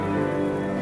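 Rain falling steadily, a soft continuous patter on surfaces, brief and even throughout.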